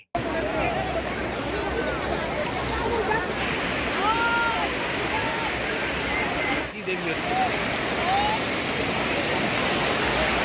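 Loud, continuous rush of surf and breaking waves on the beach at Digha, with faint voices and whistle-like tones scattered over the roar.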